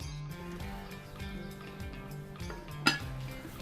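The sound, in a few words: lid placed on Dutch oven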